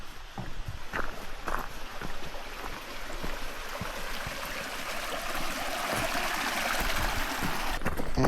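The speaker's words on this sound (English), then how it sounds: "we start in some dense forest with a bunch of little rivers" Small streams flow through dense forest on Mount Vermont's Mount Mansfield in early September, a steady broadband rush of running water continuing throughout, with occasional soft footstep-like thumps close by.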